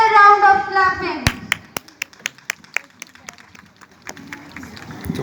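Audience applause at an Independence Day school event welcoming teachers on stage, a scattered burst of claps following a voice over the speakers, with sparse irregular claps continuing.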